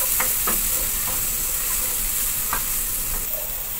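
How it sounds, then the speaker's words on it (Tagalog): Onion sautéing in a pan gives a bright, continuous sizzle, with several light scraping stirs, close and fairly loud, and no speech. "lutuin ko lang din yung sibuyas bago ko isunod yung bawang"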